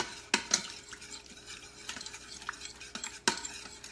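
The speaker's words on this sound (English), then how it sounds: "You're just going to stir that up here in the bottom." Milk is stirred in the bottom of an Instant Pot, heard as faint, quiet scraping with a few sharp utensil clinks against the pot spread across the moment.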